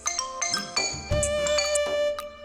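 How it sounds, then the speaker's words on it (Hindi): A phone plays a melodic electronic ringtone, a bright run of chiming tones with a sustained note in the middle, loud and close, with no voices over it. "रिंगटोन अच्छी है।"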